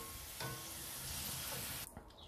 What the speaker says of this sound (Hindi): जितना ऑयल गर्म होगा उतने ही ये जबरदस्त फ्राई होंगे